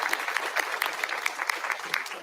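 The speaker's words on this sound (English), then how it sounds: "Let's give your mayor a round of applause." A town hall audience applauds the mayor with a steady, fairly faint patter of many hands clapping throughout.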